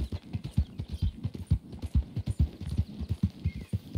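Horse hooves clip-clop in a quick, steady rhythm as a rider travels through the Red Dead Redemption II video game, loud and close with no voice over them.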